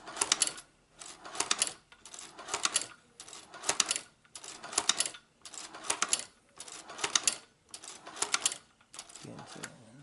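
A shoe patcher sewing machine stitches custom Vans sneakers in repeated rhythmic bursts of rapid mechanical clatter, each lasting about half a second with short pauses between, close and loud, with a voice talking in places.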